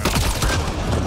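Rapid gunfire strikes an unstable canister during combat in Mass Effect: Andromeda, a dense, loud volley of overlapping shots and blasts lasting just over a second with no pause.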